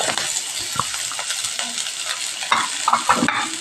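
Chopped green garlic, spinach and fenugreek leaves sauté in hot oil, a steady sizzle broken by scraping stirs and clinks of a spoon against the pan.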